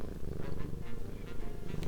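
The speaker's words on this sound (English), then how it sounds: "The purring is so soothing." A cat purrs close up in a steady, low, rhythmic rumble that swells and eases with each breath, loud and uninterrupted.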